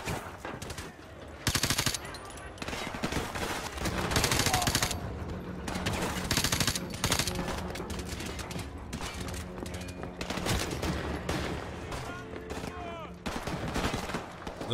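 Sustained automatic weapon fire in Modern Warfare Remastered, loud rattling bursts and scattered shots filling the whole stretch over game ambience, with brief talk in places.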